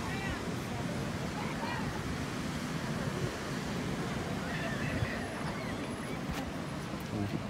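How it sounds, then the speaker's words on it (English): Steady broadband roar of ocean surf with wind, continuous throughout, no distinct talk. "You can hear the ocean in the background."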